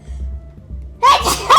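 After a moment of near silence, a sharp close sneeze bursts out, followed by a second quick expulsion of breath.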